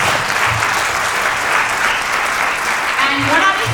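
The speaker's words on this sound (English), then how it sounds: "So please give them a huge round of applause." Steady audience applause in a hall after a panel discussion on wellbeing and mindfulness, thanking the panelists: continuous dense clapping from a seated crowd throughout, with faint voices murmuring underneath.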